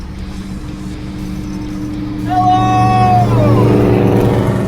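Cars pass on a highway in a loud, rising whoosh that swells midway and holds, as an engine revs past close by, with a brief shout over it.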